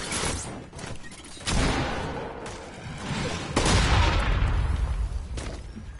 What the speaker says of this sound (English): Pistol versus combat shotgun.